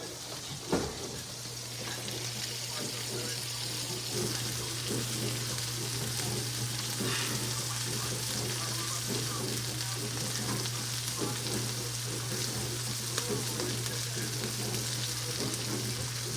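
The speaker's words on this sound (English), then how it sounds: "Put some onions in here, saute them. I got butter in there." Onions saute in melted butter in a pan, giving a steady, close sizzle and frying crackle that runs unbroken throughout with no talking.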